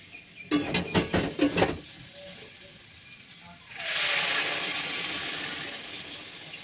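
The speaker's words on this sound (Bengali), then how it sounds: "এবার জল দিয়ে দিই।" Water poured into a hot cooking pan of fried chili powder and spices sets off a loud, steady hiss and sizzle that carries on to the end, following a few seconds of someone speaking.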